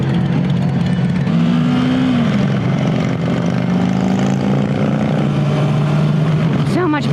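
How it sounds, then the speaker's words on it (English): A loud motorcycle roars past at a motorcycle training class, a heavy continuous engine drone with rising and falling pitch sweeps, and people talk underneath it. "So much bike noise."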